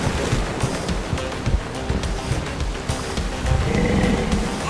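A roaring tsunami wave crashes onto a beach as a dense, loud wall of churning water and rumbling surf that swells steadily with no gaps.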